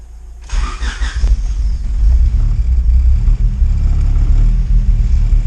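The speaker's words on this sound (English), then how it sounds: "Now we can fire the car up again and see where the tune is at." A turbocharged Honda Civic Type R engine cranks and catches, then settles into a loud, deep, rumbling idle heard close by.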